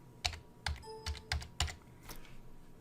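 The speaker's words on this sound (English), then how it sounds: "do a Control F again, and then type in" Computer keyboard keystrokes entering a short search term into a browser find box: about half a dozen crisp, close clicks in an uneven rhythm, with no voices.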